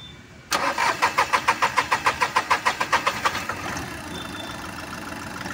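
A diesel VW Polo with a suspected injector fault cranks over with a fast, even chugging of about fourteen starter strokes, then catches and settles into a steady, close engine idle.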